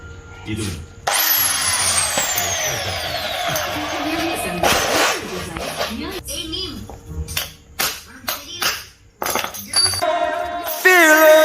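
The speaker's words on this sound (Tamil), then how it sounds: "இப்போ ஃபுல்லாக கிரைண்ட் பண்ணியாச்சு இந்த ஓட்டையை ட்ரில் வச்சு" A power drill whines and bores a hole in a long run while fitting a KTM Duke 200 motorcycle tail tidy, then comes intermittent clanks, scraping and short tool bursts, with some talking in between.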